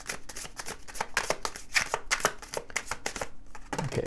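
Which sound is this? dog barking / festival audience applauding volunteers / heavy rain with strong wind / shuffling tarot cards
shuffling tarot cards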